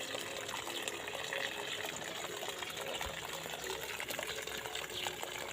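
Water gushes and flows steadily to trees, a constant splashing rush that holds at the same level throughout.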